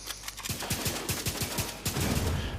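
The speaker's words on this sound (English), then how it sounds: "once you hit the same target with 7 rounds, you get this explosion which does a lot of damage" Rapid automatic gunfire from an exotic weapon in The Division 2, a dense string of sharp shots with loud bursts layered into a sustained explosive roar near the end.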